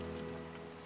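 Windy rain in the Umineko visual novel, a dense, steady wash of falling rain with a low sustained drone underneath, continuous and fairly soft across a brief moment.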